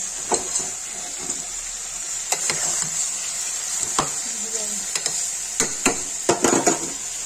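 Turmeric and red chilli sizzle steadily in a pressure cooker while a spoon scrapes and knocks against the metal in irregular strokes, close by, with faint talk underneath.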